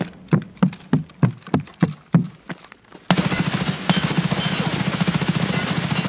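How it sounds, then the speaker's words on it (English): Gunfire in Escape From Tarkov: a rhythmic burst of about eight loud, evenly spaced shots, then a sustained dense rattle of rapid automatic fire for the remaining few seconds, with no speech. "Oh, I'm getting shot from across the way."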